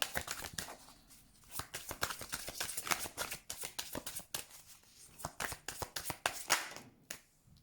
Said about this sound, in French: Je vais mettre une dernière carte quand même